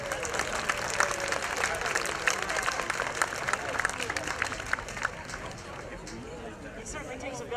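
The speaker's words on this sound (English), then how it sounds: "let's clap for the audience." Audience applause at an outdoor wind band concert at Heritage Landing in Muskegon, a dense, steady wash of clapping from a crowd with some murmuring mixed in, holding at an even level throughout.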